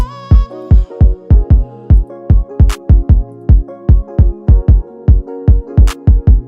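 An NY drill drum loop with punchy kick and hi-hat hits in a steady rhythm, plus a bright clap landing near the end of the bar.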